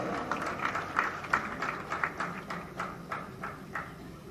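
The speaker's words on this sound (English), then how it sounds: "Ladies and gentlemen, please give them a big round of applause." Scattered audience clapping at an award ceremony in Bengaluru, a modest round of individual claps rising and falling, fairly quiet and unaccompanied by talk.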